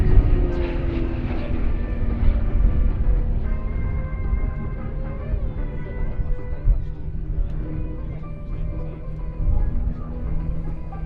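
At the Duxford summer airshow, Pitts Special aerobatic biplanes of the Royal Jordanian Falcons fly solo aerobatics, their engine drone steady and fairly distant, rising and falling slightly, while a commentator speaks over it.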